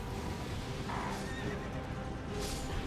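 An enemy horse in the video game Elden Ring Nightreign neighs in two short whinnies over a dense, loud game soundscape of rumbling and clatter.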